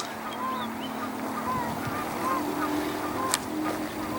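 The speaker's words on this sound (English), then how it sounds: "geese in the background" Geese honk faintly in the distance across a xeriscape garden, scattered calls over a steady outdoor rumble, with one sharper click near the end.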